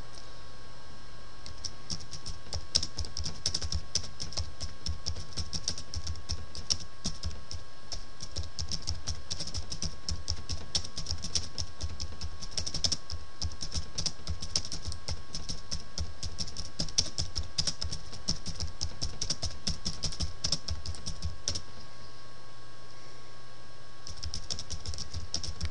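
Fingers type steadily on a computer keyboard for over twenty seconds, a close run of rapid key clicks with brief pauses and no voices.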